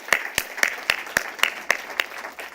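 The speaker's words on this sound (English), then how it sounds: "That does deserve applause." Sparse applause from an audience at a university fundraising campaign celebration: about eight distinct claps in a steady, evenly spaced rhythm, fairly close and alone.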